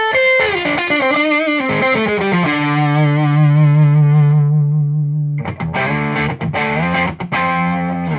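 Electric guitar through a Hao Rust Driver overdrive pedal plays a sustained lead line, then crunchy strummed chords near the end, loud and continuous with a thick, saturated tone.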